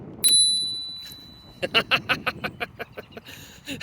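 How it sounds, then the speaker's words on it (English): A bright analog bell on an electric scooter rings once, then a quick run of about ten metallic dings follows in a fast rhythm, close and clear. "We have a bell. You've been looking forward to this the whole time. It is an analog bell."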